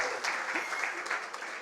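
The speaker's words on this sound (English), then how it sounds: "Give me a round of applause, people." An audience claps at a Christmas-themed launch event, a steady faint patter of hands at moderate distance, brief and even with no cheering.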